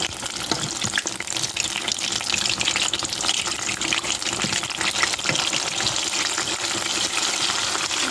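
Samosas frying in a pan of hot oil, giving a steady, dense sizzle with constant crackling spatter throughout and no voices.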